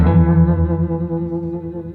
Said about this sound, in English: This is where these amps shine, is the beautiful vibrato.